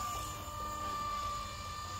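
Blade 230s RC helicopter in flight, a steady, fairly quiet whine with a thin high tone held throughout, constant with no breaks.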